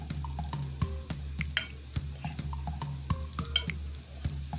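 A spoon stirs ground roasted cumin into mashed potato for aloo bharta in a pan, with soft scraping strokes at a steady rhythm and faint sizzling underneath, close and quiet.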